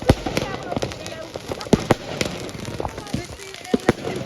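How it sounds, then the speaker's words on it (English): Bonfire night fireworks crackle and pop close by in rapid irregular bursts, sharp cracks scattered throughout, with people talking and calling out over them. "we're sat dangerously close to the fireworks"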